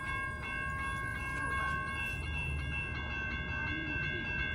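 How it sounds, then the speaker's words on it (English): An Amtrak San Joaquin passenger train, number 714, pulls into the Fresno station, a steady rumble of rolling cars with sustained tonal hums and squeals running throughout, fairly distant and without speech. "Here comes Amtrak, San Joaquin bound train, 714."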